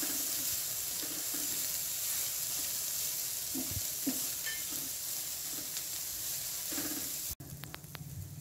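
Ridge gourd sautés with salt in a pan, producing a steady close sizzle broken by occasional light stirring taps before stopping abruptly near the end.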